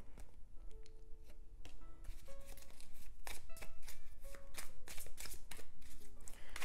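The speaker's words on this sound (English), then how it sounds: "I'm gonna get you guys some tea leaf cards" Tea leaf oracle cards shuffled repeatedly up close, a run of crisp rapid card slaps and riffles with a few brief tonal ringing bits between them.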